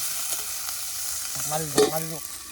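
Chicken Maggi noodles frying in a pan as they are stirred continually, a soft sizzle with scraping stir strokes, close; a brief tonal squeak of the utensil stands out near the end.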